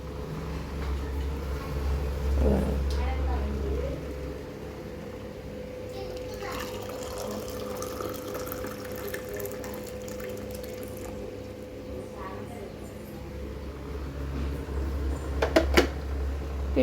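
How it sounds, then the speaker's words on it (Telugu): Hot water pours into a pot of dal as a steady low splashing under a constant kitchen hum, with a few brighter clinks near the end. "ఇంకా నేను దీనికి హాట్ వాటర్ అయితే యాడ్ చేసుకుంటాను"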